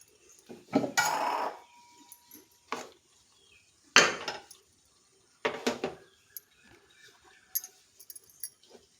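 Chopped onion, green chilli, tomato and bottle gourd tipped into soaked dal in a pot: a few separate bursts of clattering and thuds as pieces drop in, with metal clinks between them and quiet gaps.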